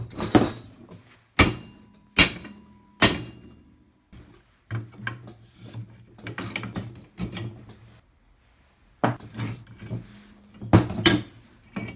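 Sharp metal hammer strikes knock pins out of a rusty Hi-Lift farm jack, with four hard spaced blows, a stretch of quieter tapping and clatter, then another cluster of close, loud impacts.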